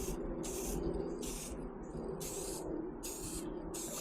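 Rust-Oleum Specialty Color Shift spray paint hisses from an aerosol can in six short, loud bursts with brief pauses between them, close to the microphone over a steady low background hum.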